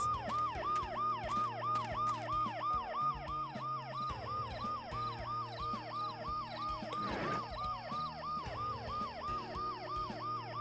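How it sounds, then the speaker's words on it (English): An ambulance siren from a video game wails in a fast, repeating up-and-down pattern, loud and close, over a low engine hum and layered electronic tones. "The noise the ambulance makes will cover the sound of the glass breaking."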